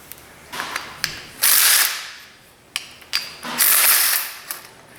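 A ratchet loosens the 10 mm nuts on a Chevy Equinox wiper motor, giving two bursts of quick clicking, each starting with a few separate clicks and building into a loud, rasping run.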